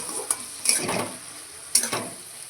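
Ground spices, turmeric and salt with ginger-garlic and green chilli paste stir-fried together in a pan: a steady close sizzle broken by a few sharp scraping stirs, with no voices.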